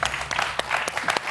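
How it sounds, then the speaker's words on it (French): Studio audience of a TV quiz show applauding a champion's win, a short burst of dense clapping heard alone. "Frédéric, applaudi par Valentin"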